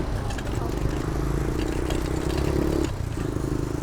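A motor scooter drones nearby with a steady low hum and rattling clatter, its pitch dipping briefly near the end as it passes.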